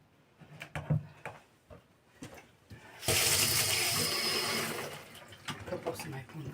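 In a home kitchen during Romanian cooking, tap water gushes into a container for about two seconds, loud and close, between quieter clinks and handling noises.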